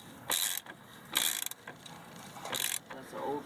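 Ratchet clicking in short bursts while tightening new ball joint bolts on a 1999 Dodge Durango, three separate close, bright ratcheting runs with pauses between them.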